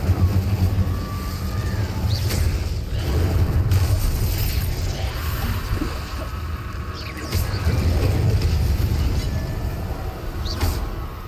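Incendio fire spell cast in Hogwarts Legacy, a loud whooshing burst with low rumbling booms over a dense game soundscape, several swells of blast-like energy across the clip.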